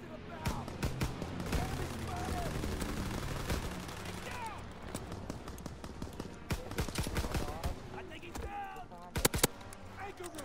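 Light machine gun fire from the LSAT in Call of Duty WW2 Zombies, heard as dense bursts of rapid shots with sharp cracks over game sound effects, with voices talking throughout.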